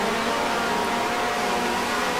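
Vintage 1965 Grand Prix race cars pulling away from the grid at a race start in the Grand Prix Legends sim, a dense, steady engine roar filling the whole stretch with no clear individual revs.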